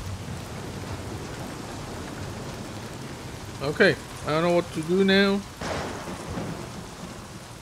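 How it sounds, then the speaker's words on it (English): Steady rain hiss with low rumbling thunder throughout in the video game Days Gone, while a person speaks briefly in the middle. "Yeah, it's raining."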